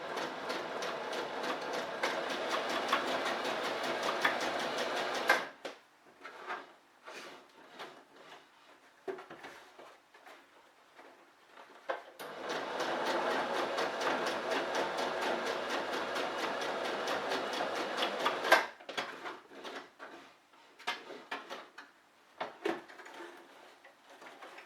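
A sewing machine stitches fabric for small wardrobe sachets, running in two long steady buzzing passes separated by a pause filled with quieter clicks and handling taps, close and moderately loud.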